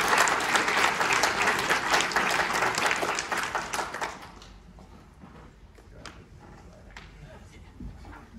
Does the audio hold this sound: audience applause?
yes